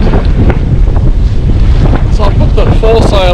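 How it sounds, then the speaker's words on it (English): Strong wind roars and buffets constantly aboard a sailboat on a solo cruise with the foresail out and the engine running, with water sloshing and a few tonal squeaks near the end. "Reasonably favourable wind"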